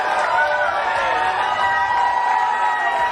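A crowd at a political gathering cheers and whoops in a dense, continuous roar of many voices for a few seconds.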